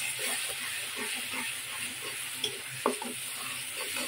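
Ginger garlic paste frying in a pan for a rohu fish and cabbage dish, giving a steady, even hiss and sizzle with a couple of faint stirring knocks near the end.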